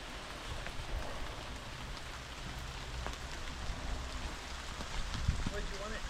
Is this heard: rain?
yes